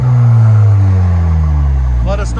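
A 2019 Chevy Silverado's 2.7L four-cylinder with a Black Widow exhaust revs, producing a loud, deep exhaust drone that swings downward in pitch, close to the listener, with a brief voice near the end.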